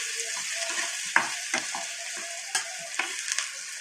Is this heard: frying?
yes